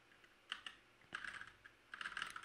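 Typing on a computer keyboard while editing code, close and quiet, with scattered keystroke clusters: a few taps, a pause, then quicker runs of clicks toward the end.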